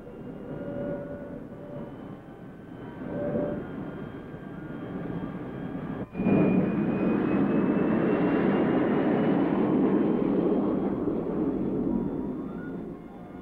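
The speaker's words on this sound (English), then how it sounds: "The starter begins to whine. The engine comes to life." A GM Firebird III gas turbine car engine starting: a rising turbine whine builds, then a sudden surge into a steady, loud engine roar that holds and slowly climbs in pitch.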